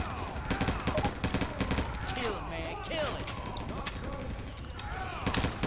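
Rapid bursts of gunfire in the zombie shooter Left 4 Dead 2, repeated shots cracking through the whole stretch with game noise and occasional voices.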